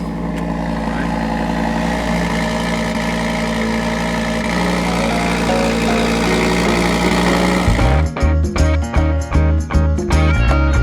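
A Cupra Formentor VZ5 engine turns over and settles into a steady, loud idle, then the sound breaks up into choppy pulses near the end; nearby and with no talking.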